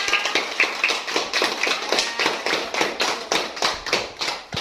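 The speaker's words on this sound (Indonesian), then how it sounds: "Sudah bagus, kita beri tepuk tangan yang meriah." Classroom applause for a student discussion group after its presentation, with rhythmic overlapping hand claps at close range, fairly loud and steady, fading near the end.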